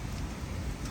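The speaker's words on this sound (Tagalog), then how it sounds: "Umuulan na." Steady rain falls outdoors over a terrace garden during hot weather, a dense, continuous patter with a low rumble beneath, even in loudness throughout and with no voices.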